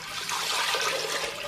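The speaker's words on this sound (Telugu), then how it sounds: "ఇందులో వాటర్ అయితే పోసేసుకుందాము." Water poured into a wet grinder to clean it, a steady splashing gush heard close up for over a second, with no talking.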